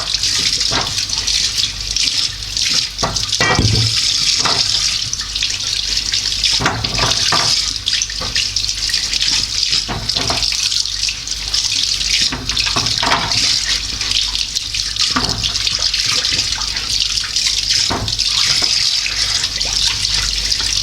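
Carrots being washed for turnip juice (şalgam), rinsed under a steadily running kitchen tap with continuous splashing water and occasional knocks and rubbing against the sink, no talking.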